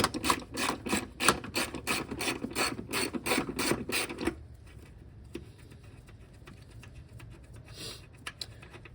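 Ratchet wrench loosening a 10 mm nut on the brake booster of a third-generation Toyota 4Runner, a rapid run of close, loud clicks for about four seconds, then quieter scattered clicks and handling noises.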